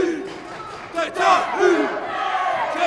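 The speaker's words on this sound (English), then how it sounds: "You hear the crowd." A wrestling crowd at a heavyweight championship match cheers and roars, a broad sustained swell of many voices that rises and peaks midway, with shouts poking through the arena din.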